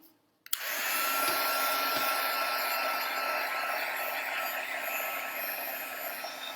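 A heat tool kicks on with a click and roars steadily as it dries a mixed media craft tag, a loud, even fan-and-air rush holding close to the mic for several seconds.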